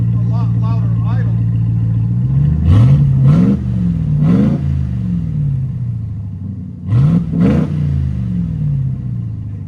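A RAM TRX pickup with an aftermarket exhaust rumbles at a loud, deep idle and blips its throttle in several quick revs, close by, while people talk over it.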